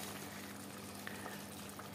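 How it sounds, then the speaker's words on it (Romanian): Fish stew made with canned fish simmers in a pot, a faint, steady bubbling and gentle popping with a low continuous hum beneath, no voices present. "O, cât de frumos să fierbe!"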